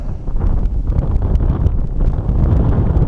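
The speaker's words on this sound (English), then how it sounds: "with the wind hitting it about 15 to 18." Heavy outdoor wind buffeting a microphone at an RC plane flying field, a steady loud low rumble with gusty flutter, close and unbroken with no voices.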